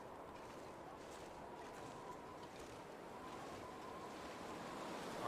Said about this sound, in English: Alright, so the wind just got bad.